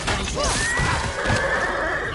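A horse in a video game neighs loudly close by, a shrill wavering whinny over a low rumble and some hoof clatter.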